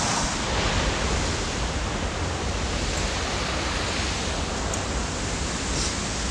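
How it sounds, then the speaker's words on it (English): A forest waterfall in Northumberland, a loud, unbroken broadband roar of rushing water, close and constant, with no voices. "I never knew there was a waterfall here."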